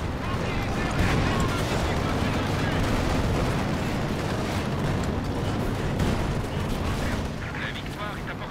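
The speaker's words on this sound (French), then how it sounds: "le barrage d'artillerie légère qui est lancé" Dense, continuous rumbling barrage of booms and crackling blasts from a light artillery barrage in a WWII strategy game, loud and unbroken throughout, with game battle noise and a voice speaking over it.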